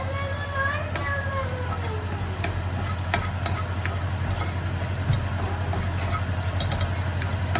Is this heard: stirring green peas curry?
yes